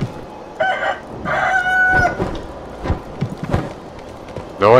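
Wild rooster in the video game Sekiro crowing and clucking in short repeated bursts, loud and near, amid game combat thumps and clatter.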